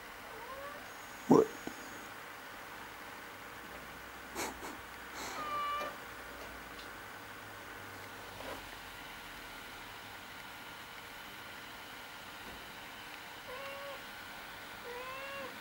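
A house cat gives one clear meow early on, then a few fainter mewing calls spaced out over a steady low background hum.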